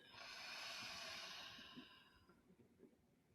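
A slow, breathy exhale during guided meditation, a soft airy rush that swells and gradually fades over a few seconds, close and quiet with no talking.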